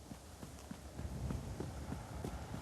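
A horse cantering fast, its hooves beating a steady repeating rhythm of dull thuds at moderate distance, fairly quiet against a constant broadband background hiss.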